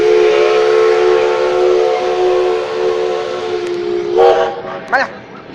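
A coal-fired steam train museum carriage lets out a loud, sustained whistle close by, holding a steady tone for about four seconds before a couple of short, wavering blasts trail off.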